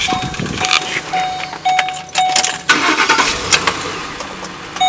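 A black pickup truck's engine cranks over and fires up nearby, with several loud starter bursts before it catches and settles into a rough running idle.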